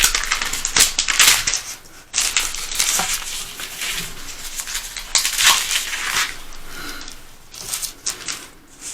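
Paper pages of a book are turned during a Sunday devotional reading, giving intermittent crisp rustles and soft flicks with quiet gaps between, close and fairly faint with no talking.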